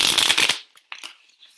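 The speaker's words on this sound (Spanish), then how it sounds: "Yo necesito barajar las cartas." A deck of Uno playing cards is shuffled close by in a quick, riffling flutter for about half a second, followed by a few light taps and flicks as the cards settle.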